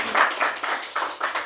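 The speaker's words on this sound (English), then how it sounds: "So, give him a round of applause." A small conference audience gives a brief, uneven round of clapping, a handful of distinct claps pulsing over about a second and a half, with no talk.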